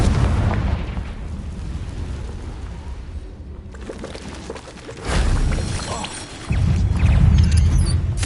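Fire-blast Confringo spell explosions in Hogwarts Legacy: a rumbling game soundscape breaks into two loud, heavy booming bursts near the end, each sustained and close, with no talk.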